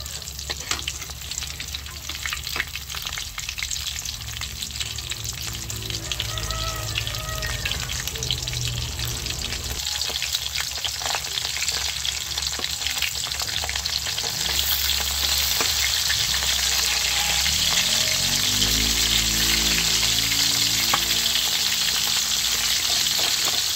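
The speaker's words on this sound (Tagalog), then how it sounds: "at nagpiprito na po tayo ng isda" Fish frying in hot oil for escabeche, a steady close sizzle and crackle that runs throughout, with occasional stirring or turning scrapes and a brief metallic clink partway through.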